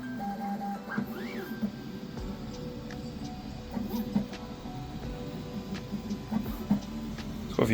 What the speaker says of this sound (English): Then the printer will start doing its thing.